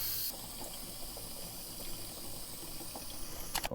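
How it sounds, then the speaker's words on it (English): Water pours steadily into a backpack sprayer being half filled for a lawn treatment, a continuous rushing fill with a faint hiss, ending in a few clinks and knocks near the close. "So half of the backpack sprayer is filled with water"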